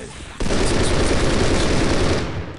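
A sudden burst of rapid gunfire starts after a brief pause and continues loud and dense, with a game-like, processed quality and no speech over it, from the video game Postal 2: Apocalypse Weekend.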